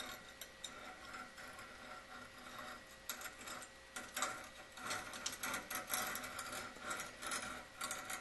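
A file or sharpening stone is drawn along the flat side of a single-bevel broadhead blade, making faint, uneven scraping strokes that grow busier partway through, with no talk.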